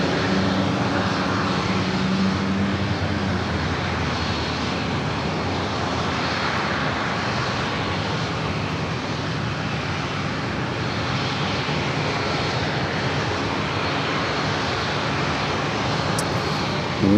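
A Lufthansa heavy jet airliner departs San Diego airport, its engines producing a sustained broad, loud roar that holds steady throughout.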